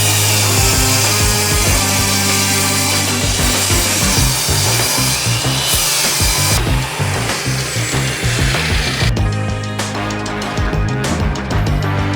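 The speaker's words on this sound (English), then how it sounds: "do you need like a perfectly straight rip of lumber to build some furniture out of or something?" A saw ripping a long straight cut through lumber: a loud, continuous power-saw whine and grind holds steady for the whole stretch, close up, with no voices.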